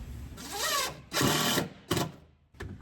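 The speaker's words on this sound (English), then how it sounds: "I'm going to run 2 screws through" A power driver running screws into a pontoon boat battery box, with several close whirring bursts of varying length, the longest about a second, separated by short pauses.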